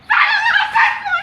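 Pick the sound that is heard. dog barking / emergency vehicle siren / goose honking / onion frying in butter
dog barking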